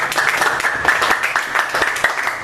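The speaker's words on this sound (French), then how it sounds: "Applaudissez." Clapping from a church congregation at a testimony service, a brisk patter of many hands with sharper claps standing out, close and fairly loud, with some voices mixed in.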